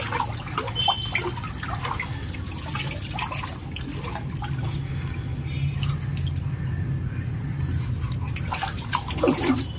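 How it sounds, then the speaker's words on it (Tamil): Water runs steadily into a large aquarium being cleaned, a continuous trickling and dribbling splash that holds at an even level for the whole stretch with no voices. "தண்ணி கொஞ்சம் ஃபில் பண்ணி விட்ருக்கேன்"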